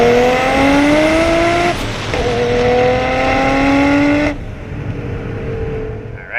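Modified 1995 Nissan Skyline R33 GT-R six-cylinder at full throttle, loud and close, revving through rising pitch sweeps with quick gear changes before the engine note drops off and settles at a lower drone.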